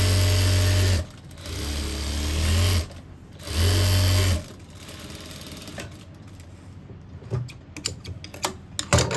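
A sewing machine runs in three loud, steady bursts of stitching on a simple suit, adding a seam for extra leg fitting, then stops, leaving soft handling clicks and rustles of fabric.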